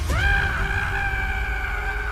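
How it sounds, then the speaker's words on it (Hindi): A loud, sustained scream from a horror animation, rising sharply at the start and then holding a steady, piercing pitch for about two seconds against a low rumbling background. "कुछ ही देर बाद गांव वालों ने सोहम की रूह कपकपा देने वाली चीख सुनी।"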